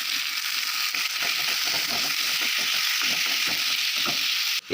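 Chicken fries in a pan with garlic, onion and chilli flakes, a steady close sizzle with scraping, stirring clicks running through it.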